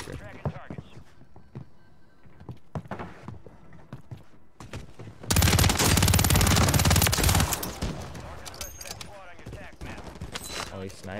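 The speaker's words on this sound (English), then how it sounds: "he's sniping at me" Video game gunfire crackles in sharp scattered shots, then a loud dense burst of rapid fire swells near the middle and tapers off, with a player's voice talking over parts of it.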